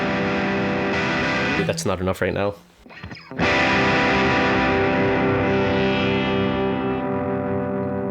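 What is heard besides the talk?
electric guitar through Animals push and pull distortion pedal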